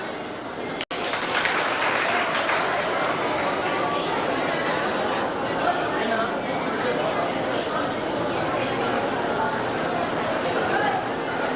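An audience at a college science fest applauding student performers, a sustained dense wash of clapping from a crowd, steady and fairly loud with murmured chatter mixed in.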